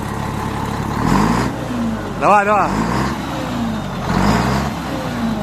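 A MAN or Renault truck engine with about a million kilometres on it revs up nearby, rising and falling in a couple of throttle blips over a steady idle, with people talking over it.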